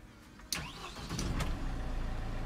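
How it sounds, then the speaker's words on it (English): A Force Gurkha Xtreme 4x4 with a 2.2-litre turbo diesel engine idles steadily just under 1000 RPM as heard from inside the cabin, a low continuous rumble with a brief sharp knock near the start. "So the engine is idling right now,"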